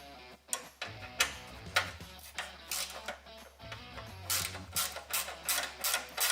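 A ratchet on a Lexus GX460 works loose the bolt that holds the e-brake cable, making quick, close, crisp clicking in uneven bursts with short pauses between strokes.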